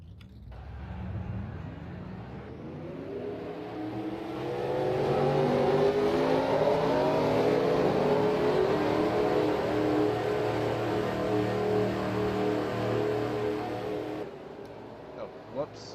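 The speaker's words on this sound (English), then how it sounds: "Drivers, start your engines!" Race truck engines roar together at the start of a Daytona truck series race in a racing video game, a dense, loud revving drone that swells and holds, then cuts off abruptly near the end.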